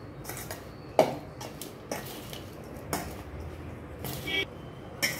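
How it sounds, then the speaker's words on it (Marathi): A spoon mixes lemon and chili pickle in a bowl, giving several distinct scraping clinks against the bowl, close, over a low background murmur. "छान असं सगळं मिक्स करून घेऊया।"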